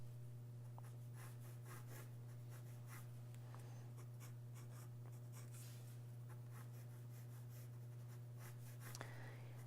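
Soft, creamy pencil drawn across paper during an underdrawing, giving a faint, continuous scratchy rubbing with irregular strokes, quiet and close under a steady low hum.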